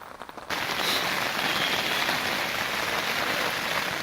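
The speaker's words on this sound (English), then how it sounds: "I'm not even sure if you're going to be able to hear me over the rain at the moment" Heavy rain pours down steadily, a dense continuous hiss of drops drumming on a surface, starting abruptly after a brief quieter moment.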